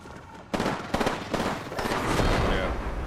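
Gunfire in the PS5 game Final Fantasy XVI from a firearm-wielding foe, a loud burst of rapid shots that opens sharply and keeps rattling through a dense battle mix.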